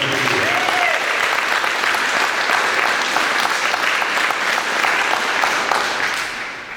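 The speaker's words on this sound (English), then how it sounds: "How about a nice round of applause for our class of 2015?" An audience at a track graduation ceremony gives a round of applause for the class of 2015, dense continuous clapping that stays loud and steady before tapering slightly at the end.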